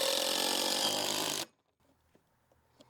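Power drill drives a screw through roof fascia in one loud steady whir lasting about a second and a half, then stops abruptly, leaving faint clicks and handling noise.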